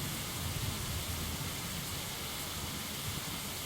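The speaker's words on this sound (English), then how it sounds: "From the sky, dark as night, rain poured down to the ground." Steady, dense rain pouring down in the video game Lamento Beyond the Void, a continuous broadband hiss that stays loud and even throughout with no voices.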